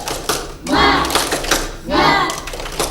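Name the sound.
class clapping the 'tepuk semangat' clap chant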